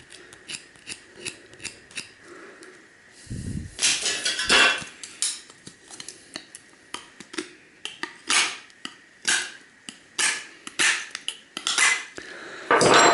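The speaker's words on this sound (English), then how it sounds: "we'll get that knife and we'll just do a little bit of a scrape to take off the lacquer" A knife blade scraping lacquer off copper winding wire from a fluorescent light fixture ballast, a series of short, sharp metallic scrapes in an irregular rhythm, close and crisp with quiet gaps between strokes.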